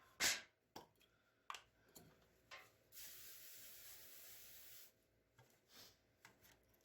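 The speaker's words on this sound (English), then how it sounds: "we're going to spray our containers." A steady hiss of an aerosol spray coating food containers lasts about two seconds, with faint scraping and tapping sounds before and after it.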